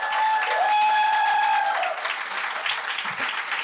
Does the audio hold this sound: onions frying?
no